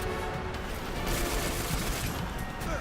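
Pistol gunfire in a first-person shooter game, a dense continuous barrage of loud shots running through the whole stretch with no pauses.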